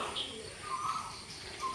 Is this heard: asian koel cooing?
yes